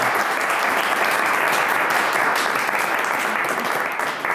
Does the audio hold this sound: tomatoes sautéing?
no